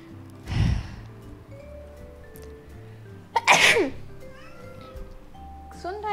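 Two sharp human sneezes, the first short and the second louder and wetter, break through a quiet Roblox Brookhaven game backdrop with faint chimes and a tonal game melody.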